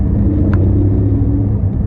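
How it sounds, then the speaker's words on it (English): A deep, steady engine rumble from a 2021 Porsche 718 Cayman GT4 4.0 PDK with a throaty sports exhaust, loud and close, with no talking. "it sounds phenomenal, this car, especially with a sports exhaust there"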